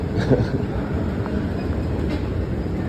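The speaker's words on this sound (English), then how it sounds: "Oh, look, there's the subway." Subway train rolling past in Santa Cruz, a steady loud rumble of wheels and cars with faint rail clatter, heard from close by with no voices.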